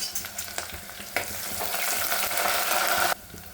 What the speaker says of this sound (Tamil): கடுகு பொரிஞ்சதும் அதை இதில் சேர்த்துக்கலாம். சேர்த்துட்டு நல்லா வதக்கி விட்டுக்கலாம்.